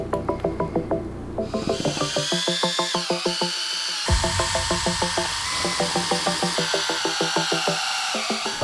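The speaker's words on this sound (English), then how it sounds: "then we're gonna drill mix again" A power drill with a mixing paddle stirs clear countertop epoxy in a pail, giving a loud, steady whirring motor tone with rapid rhythmic pulsing and brief pitch shifts as the drill speed changes, with no talking.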